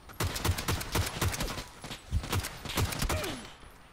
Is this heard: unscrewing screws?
no